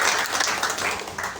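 Audience at a motivational business seminar clapping, a dense wash of applause throughout the short stretch, loud and steady, with no clear speech.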